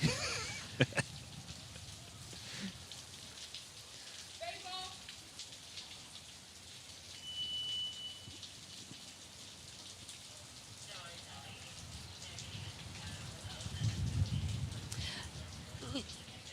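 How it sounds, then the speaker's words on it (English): Rain falls on an outdoor athletics track at an Olympic stadium, a steady hiss and patter with gusty swells, plus a few scattered knocks and faint distant voices. "the rain is changing directions constantly"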